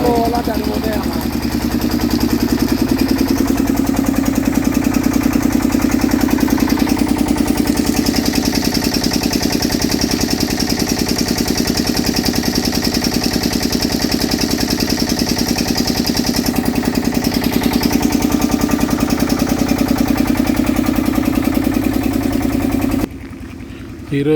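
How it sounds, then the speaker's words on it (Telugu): A water pump motor hums steadily and loudly throughout during night flooding after heavy rain, a continuous droning run that stops abruptly near the very end. "ఎంతసేపు అయింది వాటర్ మోటార్ పెట్టి"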